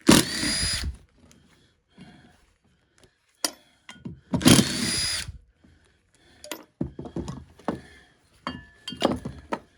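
A power tool whirs in two short bursts while backing screws out of an alternator being torn down for scrap, followed by scattered metallic clinks and handling clatter, with no talking.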